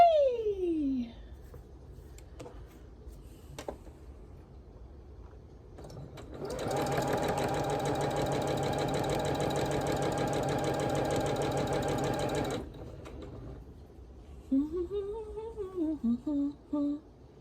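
A sewing machine runs steadily for about six seconds while piecing a Blue Ribbon Weave quilt, a continuous even whir that starts and stops cleanly, with brief other sounds and faint activity before and after it.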